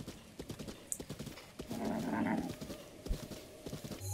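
Horse hooves clip-clop at a steady walking rhythm in The Legend of Zelda: Breath of the Wild, fairly faint, with a brief swell of ambient game sound midway.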